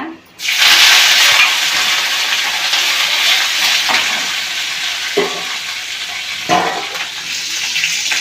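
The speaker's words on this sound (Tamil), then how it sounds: "கருவெல்லாம் பொரிஞ்சிருச்சு காஞ்ச மிளகா போடுறேன் பாருங்கள்" Loud, steady sizzling of mustard seeds and dried chilies frying in hot oil, with crackling and a few sharp pops and stirring sounds, close up and with no talking.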